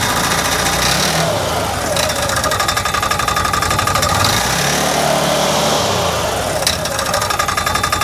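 The 1000cc engine of an Odes Massimo X4 UTV revs under throttle while the belt clutch spins, giving a loud, steady mechanical drone that swells and eases over several seconds up close.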